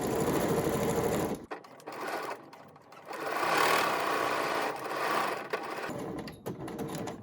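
A sewing machine chain-sews blouse pieces one after another, with a fast steady whirring stitch that speeds up and slows between pieces, close and continuous.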